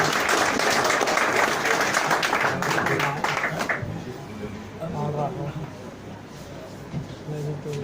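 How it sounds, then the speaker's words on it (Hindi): Applause from a seminar audience: a dense, steady wash of clapping for about four seconds, then thinning and fading as a voice begins talking over the tail. "सर के लिए एक बार जोरदार तालियां बजाइए।"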